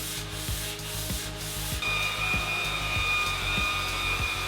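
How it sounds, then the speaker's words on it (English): Wooden coffee tabletops are sanded and shaped under a loud, continuous close-up whir of sanding with rhythmic rubbing strokes and a high motor tone rising partway through. "I was working on the tabletops, doing the majority of the sanding and shaping."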